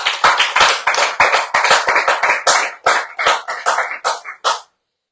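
A bistro audience applauds during a live Friday-evening radio show in Prémery, with bursts of clapping that swell, break off, return several times and then stop abruptly.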